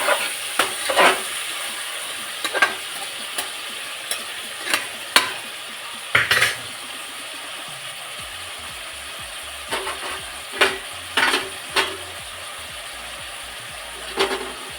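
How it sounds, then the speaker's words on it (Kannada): Chicken biryani masala stirred in a pan after salt goes in, with a steady frying sizzle under repeated scraping and clinking of a metal spoon against the pan, close and fairly loud with no talking. "ಉಪ್ಪು ಹಾಕಿ ಅದನ್ನು ಚೆನ್ನಾಗಿ ಬಾರಿಸ್ಕೊತಾ ಇದ್ದೀನಿ."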